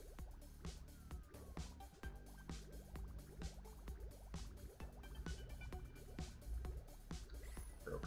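Water trickles and drips while a system fills in Oxygen Not Included, a steady run of small liquid plops and gurgles at low level with no talk over it.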